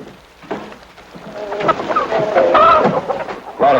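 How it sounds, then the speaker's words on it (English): A chicken clucks and squawks close by in a rising run of excited calls that grows louder toward the end, with no talking. "what do you think you're doing with that chicken?"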